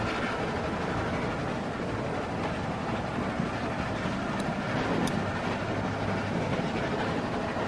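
A moving train in The Walking Dead video game gives a steady, loud, dense rumble with a faint rattling clatter. It holds continuous and unbroken throughout, with no voices.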